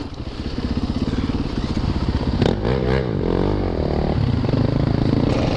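Dual sport dirt bikes, including a Yamaha YZ450FX and a Beta 350 RR-S, ride through a deep mud hole on single-track trails in Bald Eagle, Pennsylvania, with a loud, steady close engine drone, a rising rev and splashing mud clatter.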